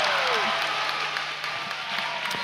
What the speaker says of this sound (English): you can see them just jumping up and down, cheering there